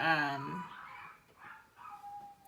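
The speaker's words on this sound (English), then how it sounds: "sorry if you can hear all the dogs outside or whatever" Dogs bark and yip outdoors, a sharp close bark at the start followed by fainter, higher whining calls trailing off at a distance.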